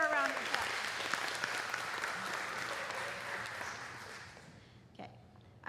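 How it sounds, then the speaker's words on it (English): A graduation ceremony audience applauds steadily for several seconds, the clapping thinning out near the end. "let's give her a round of applause"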